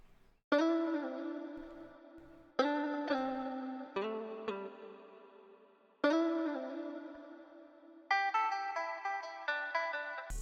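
A chopped guitar preset from Arcade, played as a hard Detroit-style beat part: sharp plucked, effected guitar stabs hit in a choppy rhythm, each decaying quickly before the next, with a brighter high phrase near the end.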